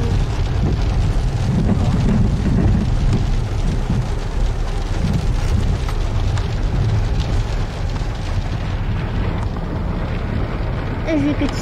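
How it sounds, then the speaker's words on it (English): Steady heavy rain pours continuously at a game reserve with a dense hiss and low rumble, loud and close, while a voice talks faintly underneath. "It's busy raining."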